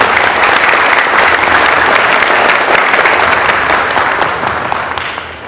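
An audience at a company family gathering claps together in loud, continuous, even applause that fades near the close.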